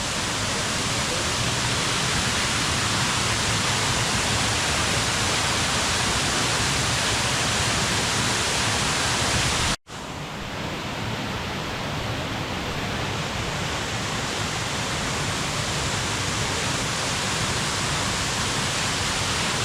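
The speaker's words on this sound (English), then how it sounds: "This is the Central Cascade. This is the tallest waterfall in the park." Central Cascade, the tallest waterfall at Watkins Glen State Park and about 60 feet high, swollen after rain and pouring as a loud, steady, full-bodied roar close by, with one brief cut partway through and no talking.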